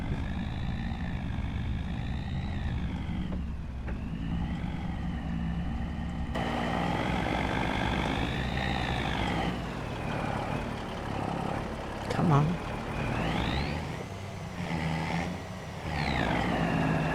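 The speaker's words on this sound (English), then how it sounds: "Maybe I needed a more powerful truck." A truck engine drones steadily while driving in Farming Simulator 25 on a Montana farm map, a continuous loud rumble with wavering revs and a faint mechanical beep midway.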